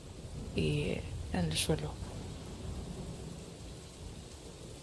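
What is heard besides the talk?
distant thunderstorm with rain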